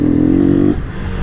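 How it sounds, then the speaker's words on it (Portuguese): A diesel-fuelled Honda Twister Flex motorcycle engine runs loud and close with a steady droning note, then stumbles and drops off in a rough misfire before picking back up unevenly. "Vocês viram essa falhada que ela deu?"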